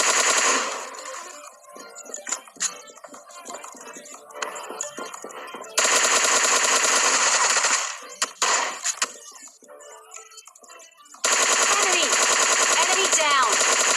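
Bursts of automatic AK and M4 rifle fire in the mobile battle-royale game PUBG Lite, with loud sustained volleys alternating with sparser single shots and impacts, plus a voice talking over the quieter stretches.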